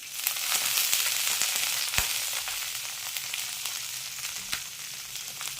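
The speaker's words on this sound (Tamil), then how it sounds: "எல்லாத்தையும் ஆட் பண்ணி நல்லா வதக்குங்க" Onion, green chilli, garlic and curry leaves sautéing in a pan for tomato chutney, giving a steady, fairly loud hiss of frying with occasional sharp spatula taps and pops.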